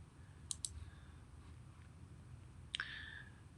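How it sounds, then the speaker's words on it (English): A few sharp computer mouse clicks: a quick pair near the start and another pair later, close and crisp over a faint quiet room hiss. "Let me go ahead and click."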